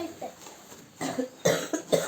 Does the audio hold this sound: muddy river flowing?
no